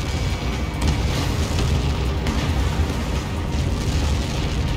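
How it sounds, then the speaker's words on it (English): A massive missile-impact explosion in the combat flight game Ace Combat 7 rumbles as a loud, continuous deep roar with sharp cracks near the start, sustained throughout without speech. "Somebody got caught in that explosion."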